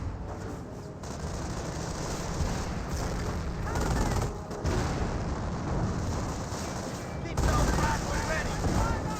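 Continuous World War II battle din from Company of Heroes, with steady small-arms gunfire and the booms of mortar rounds and a detonating landmine rolling over a dense background, fairly loud throughout with brief dips.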